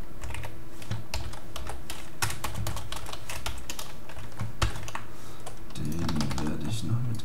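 Rapid typing on a computer keyboard while writing code, a dense run of crisp key clicks with a brief flurry near the end, with someone talking in German over it.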